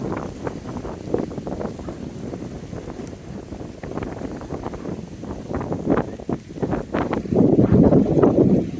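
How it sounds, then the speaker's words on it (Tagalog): Strong wind roars and buffets a microphone in low gusting bursts near the rock formation trail at Hac Sa Beach, swelling louder near the end, with no voices heard. "Lakas ng hangin."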